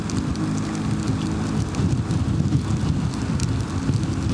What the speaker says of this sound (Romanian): Ce mă împinge vântul din stânga în dreapta.